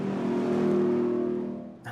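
A deep V8 exhaust rumble from a 700-horsepower 2023 Ford F-150 Raptor R holds steady and loud, then drops away near the end as the revving eases off.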